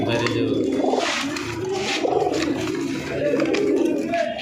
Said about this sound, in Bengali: আরেকটা উড়াই লাইনের কবুতর দিয়েছি